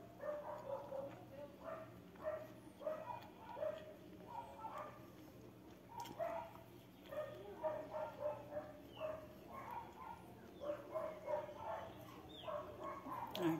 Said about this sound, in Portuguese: Cachorro lá dentro